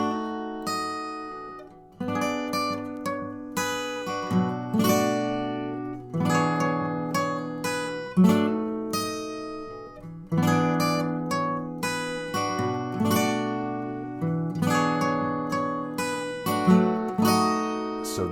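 Guitar playing a song at a slowed pace, a bright, close, picked and strummed bluesy pattern with repeating chord phrases, steady throughout and without voices.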